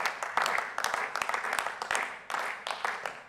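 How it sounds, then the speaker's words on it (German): Scattered applause breaks out in a parliamentary chamber during a speech on heating and gas tax, fairly close clapping that swells and fades in uneven bursts while a voice talks over it. "da können wir auch mal klatschen"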